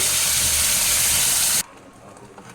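Ground chutney paste hits hot oil in a pan with a loud, close hiss and sizzle that cuts off abruptly partway through, leaving a quiet background.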